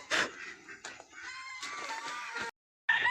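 Chickens cluck faintly in a coop shared with ducks, a soft, broken stretch of calls with a brief gap of silence near the end.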